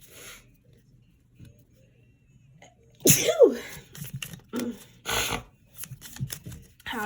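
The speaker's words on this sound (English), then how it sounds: "Oh, I have to sneeze." A single sharp, close sneeze bursts out after a quiet stretch, followed by scattered rustling and card-shuffling clatter.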